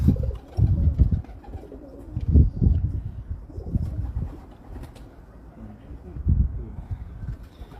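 Low, soft cooing from Dub breed pigeons kept on a rooftop loft, several drawn-out coo phrases repeating at intervals, close by with some faint background noise.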